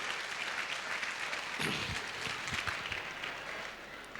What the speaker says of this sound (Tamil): இப்போ அன்னபாரதி அவர்களுக்கு ஒரு பெரிய கரகோஷம் கொடுங்க.